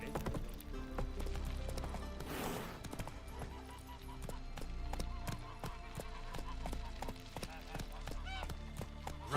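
Hooves of the horse Roach clip-clop steadily at a gallop in The Witcher 3, a fast rhythmic pounding over a dense game soundtrack and effects, with a brief whoosh partway through.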